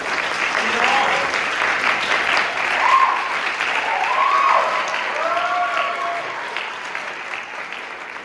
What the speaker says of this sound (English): Tonio starts applauding.